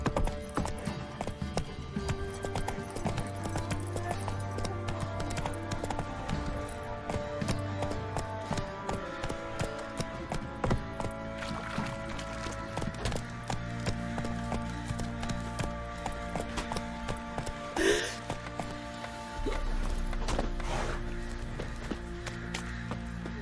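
Horse hooves clip-clop at a steady galloping rhythm in The Witcher 3: Wild Hunt, running continuously under game music, with a brief whinny partway through.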